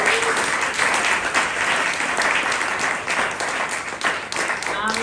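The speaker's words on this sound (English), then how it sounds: "Please give a round of applause to Sarah." Sustained applause from a pub audience at a political talk evening, dense steady clapping filling the whole stretch at a fairly loud, even level.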